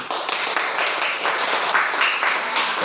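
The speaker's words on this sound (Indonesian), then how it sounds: "kita tepuk tangan ya, tepuk tangan dulu coba" A classroom of students claps hands together, a dense and even burst of applause that stays loud and steady for about three seconds with no voices over it.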